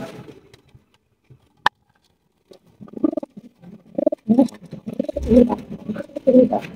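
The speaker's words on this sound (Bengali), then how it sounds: "এখানে রয়েছে একজোড়া কিং কবুতর মাশাআল্লাহ, একদম বিশাল সাইজের কিং।" A pair of large king pigeons coos in a series of low, throaty calls that grow denser in the second half, with a sharp click early on and some soft handling noise.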